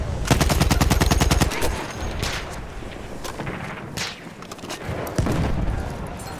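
Rapid automatic bursts from a BAR M1918 rifle in Battlefield 1, a loud fast rattling stream of shots up front followed by scattered distant gunfire and battlefield noise.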